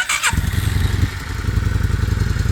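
A 2001 Yamaha XV650 V-Star cruiser motorcycle engine runs close by, opening with a brief clattering thump and then settling into a steady, pulsing low-pitched exhaust throb.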